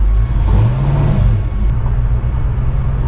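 Engine of a 1965 Ford Mustang Fastback with a Tremec TKO 5-speed gearbox, heard from inside the cabin as a steady, loud low rumble that swells slightly, then settles into an even drone.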